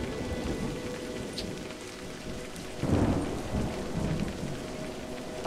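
Steady rain pours with a low rolling rumble of thunder swelling midway, heard in the Scottish Highlands hiking game A Highland Song, with no talking over it.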